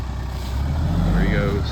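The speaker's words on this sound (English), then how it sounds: "So, get his tractor going." A tractor engine runs with a steady, close, low diesel rumble that swells slightly partway through, heard at a field being disced and graded for a deer food plot.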